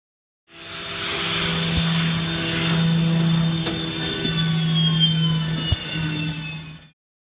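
Steady drone of a Ryanair airliner's engines heard from inside the cabin during flight, a continuous low hum with a broad whooshing hiss that holds level throughout, with a couple of faint clicks and no talking.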